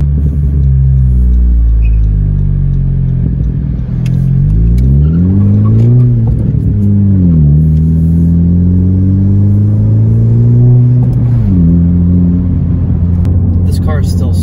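A car engine drones loudly and steadily from inside the cabin, its pitch rising and falling through gear changes as the vehicle accelerates while driving.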